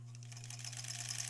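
Sewing machine stitching quilt scraps for improv-pieced granny squares, a fast steady mechanical whir with rapid needle ticks, close and continuous.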